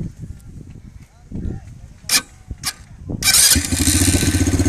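A gearless beach buggy on Panchavadi beach, started like a scooter with a key: people talk and a few knocks sound first, then the engine catches and settles into a loud, steady, throbbing idle close by.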